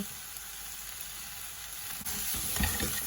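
Fresh curry leaves dropped into a hot pan for a Sri Lankan pineapple curry, setting off a steady frying sizzle that swells louder partway through, with no talking.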